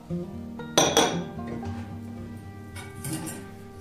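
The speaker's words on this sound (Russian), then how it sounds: "Сначала ложкой вымесим, а потом уже рукой." A spoon clanks and scrapes against a bowl while mixing dough made with coconut oil for cinnamon buns, with one sharp clatter followed by softer stirring scrapes, close up and without talk.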